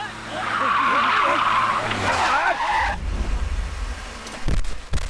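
Car tires skid with a loud, sustained screech for about three seconds during a chase in an action film, followed by a low engine rumble and a few sharp thumps.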